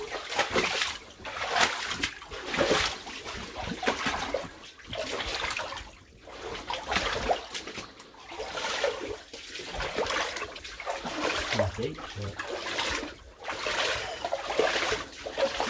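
Water runs and splashes steadily out of an old coal mine adit with a stone-arched masonry entrance, a continuous close sloshing trickle that swells and dips over the whole stretch with no voices.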